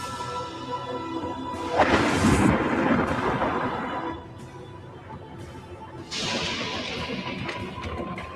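A bad thunderstorm in an animated show, with two loud rumbling crashes of thunder separated by a quieter stretch of lingering storm noise, no voices.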